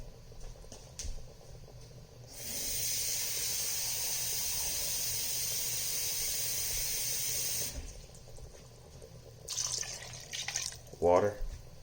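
Water pours steadily into a pot for several seconds in a continuous rushing stream, with quieter kitchen sounds and a brief voice before and after.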